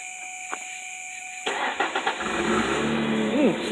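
A 2003 Ford Mustang V6 starts after a few faint clicks, then settles into a steady, close engine and exhaust rumble with a brief rev near the end.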